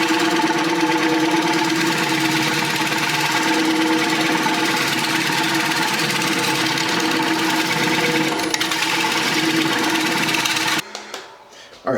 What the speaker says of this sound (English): you may have noticed I used a square scraper